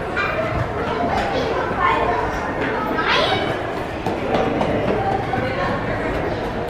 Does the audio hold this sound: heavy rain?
no